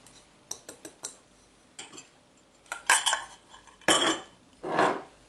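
Spoon or whisk clinking and scraping against a bowl while cookie dough is mixed with flour, a run of short bright taps and scrapes followed by a few louder, longer scraping strokes, close and with no voices.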